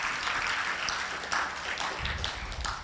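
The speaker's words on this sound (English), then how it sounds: "They deserve a big round of applause for sponsoring this event and making it possible." Audience applause at a logistics conference opening session in Malaysia, a short burst of many hands clapping together, fairly loud and even with slight swells.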